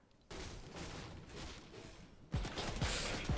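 Enemy gunfire aimed at the player in a video game, a steady loud barrage of overlapping shots that grows harsher and punchier after a brief lull.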